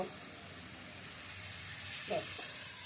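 Spice paste with water, fish and potatoes cooking in a pan, giving a steady soft sizzle and hiss throughout, with a brief louder sputter near the end.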